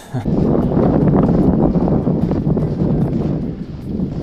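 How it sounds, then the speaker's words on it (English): Fierce winter wind in subzero wind chill with snow falling, a loud gusting roar buffeting the microphone, surging and easing throughout with no talk. "And that wind is fierce."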